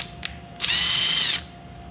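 An electric impact driver fitted with a socket runs a bolt on a 1965 Chevrolet Impala SS engine, a short tap followed by a loud, close, steady whir of just under a second.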